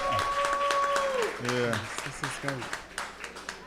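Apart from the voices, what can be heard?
audience applause for the first panel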